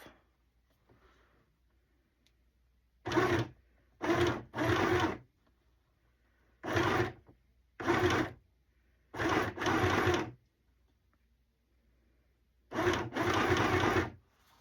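A sewing machine runs a straight stitch in short, slow bursts of roughly one to two seconds each, with quiet pauses in between. The whirring is close and steady, and there is no talking.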